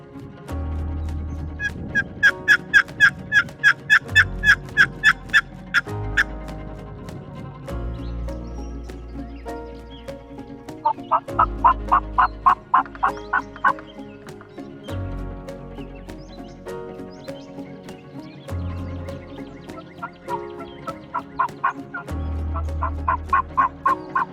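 Wild gobblers answer from a distance near a green field, several rapid rattling gobbles in bursts a few seconds apart over faint outdoor background, with deep low rumbling underneath.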